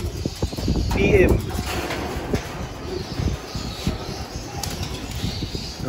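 Pigeons land at a loft and aviary with a burst of close wing flapping, followed by lighter flutters as more birds come down. People talk over a steady outdoor background rumble.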